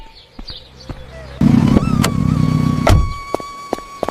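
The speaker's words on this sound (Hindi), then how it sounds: "चलो आलू, गाड़ी में बैठो" A car in an animated Hindi cartoon sets off with a loud, close mechanical rumble and clatter that starts abruptly partway through and runs to a short burst of thumps, with a quieter engine hum and knocks before it.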